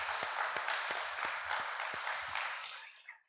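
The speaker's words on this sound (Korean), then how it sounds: "우리 다 같이 하나님 앞에 영광의 박수를 한번 돌려드리십시다." Congregation applause during a Korean Protestant Sunday worship service at a church, a dense, steady wash of many hands clapping that fades out toward the end, with a few sharper low thumps mixed in.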